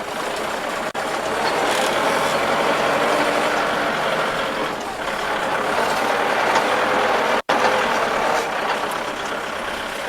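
Used Kubota tractor with a four-cylinder direct injection engine and four-wheel drive, left in second gear: a steady, loud diesel rumble running close and unbroken, with one brief dropout near the end.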